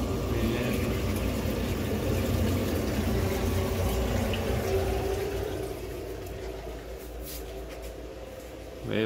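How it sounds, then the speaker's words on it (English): Cooling water from a homebrew immersion chiller pours steadily down a drain, a continuous rushing flow that eases slightly partway through before surging again at the end. "Water goes down the drain."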